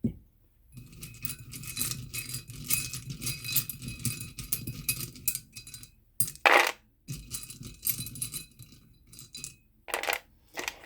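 Small metal letter tiles and charms for a divination reading are shaken and dropped, giving clustered jingling clinks and rattles in irregular bursts, close and clear, with brief pauses between handlings.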